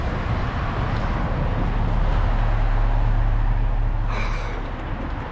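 A 2014 Honda Accord with a 6-speed gearbox idling after a valve adjustment, heard up close: a steady, even engine drone with a constant low hum throughout and no voices.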